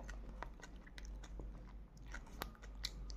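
Someone bites and chews a crunchy filled chocolate close up, with a series of sharp crisp crunches and cracks scattered irregularly over a quiet low hum.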